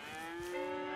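A cow in the Red Dead Redemption 2 video game gives a single short, tonal moo. It is quiet and heard alone, with no talk over it.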